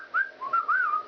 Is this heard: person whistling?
yes